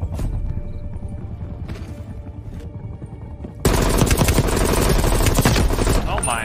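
Gunfire from shotguns and the XM4 rifle in Call of Duty Cold War multiplayer, with sparse shots early, then a dense, loud barrage of rapid shots over game noise in the second half.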